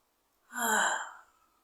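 A single close, voiced yawn rises and fades over about a second, breathy with a tonal edge, in an otherwise quiet room.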